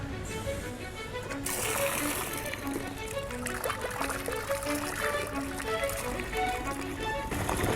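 Clean Alpine water streaming from a public drinking fountain in Austria, a steady close trickle and splash running throughout, with a brief rise in gush at the start.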